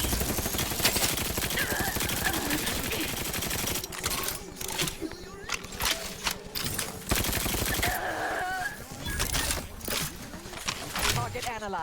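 Rapid gunfire bursts from combat in the video game The Outer Worlds 2, loud and dense, mixed with game sound effects and a speaking voice throughout.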